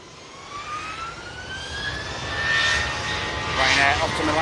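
A Ryanair jet airliner taking off at Manchester Airport produces a steady, rising engine roar with a climbing whine, heard from a distance and growing louder toward the end, while a person talks over it.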